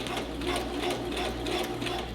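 A home sewing machine runs at a steady hum while backstitching over an elastic waistband, its needle chattering in quick, even repeated pulses close by with no talking.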